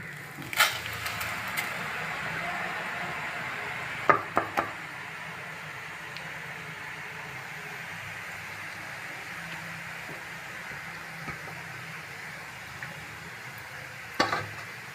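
Thin karappusa, a fine gram-flour snack, frying in hot oil, giving a steady soft sizzle throughout with a few sharp knocks and clinks of a ladle against the pan.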